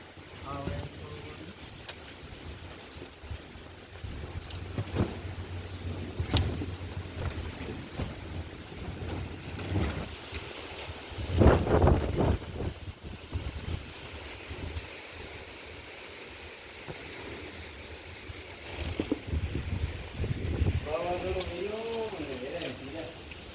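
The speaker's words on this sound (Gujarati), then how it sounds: "પવન બહુ વરે." Strong wind gusts from an outdoor boat or waterside scene, with broadband rumble and buffeting on the microphone throughout, a louder surge near the middle, and people talking intermittently over it.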